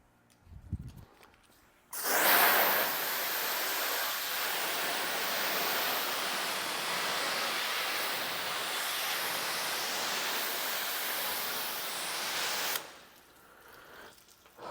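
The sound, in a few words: rinsing coating remover off a car panel with water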